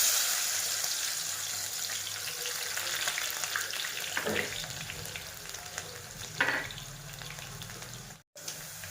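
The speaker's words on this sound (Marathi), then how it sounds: "आता तेल पण तापलेलं आहे. आता आपण टाकून देऊ हे बारीक चिरलेला कांदा." Finely chopped onion fries in hot oil for chicken biryani, a loud, steady crackling sizzle running throughout, with a couple of brief scraping stirs and a sudden short drop near the end.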